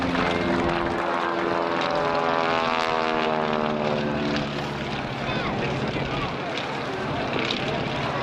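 A Navy Wings Stinson Reliant propeller plane drones loudly past at the 2023 Blackpool Air Show, its engine pitch sliding downward as it goes by, with crowd noise and a voice underneath.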